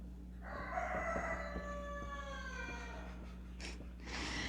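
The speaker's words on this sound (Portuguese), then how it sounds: "Esse galo gosta de participar da aula, gente, vocês nem imaginam." Rooster crowing nearby during a math lesson, one long drawn-out crow with a clear harmonic call over a steady low electrical hum, then a brief cluck at the end.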